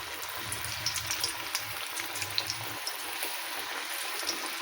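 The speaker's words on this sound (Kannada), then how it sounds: "ಈಗ ಇದನ್ನು ಕರಿತೀವಿ ನೋಡಿರಿ" Karigadubu, stuffed sweet dumplings, frying in hot oil, a soft continuous bubbling sizzle with scattered small pops, fairly quiet and steady, no talking.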